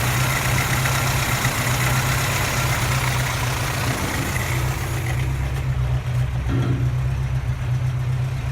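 A 1981 Toyota engine idles with a possible air leak, giving a continuous low rumble with a steady hiss over it that holds throughout and eases slightly near the end.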